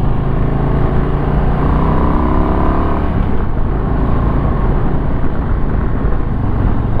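A 2022 Harley-Davidson Low Rider ST motorcycle accelerates with a loud, steady engine drone that rises in pitch, then blurs into wind rush as speed builds.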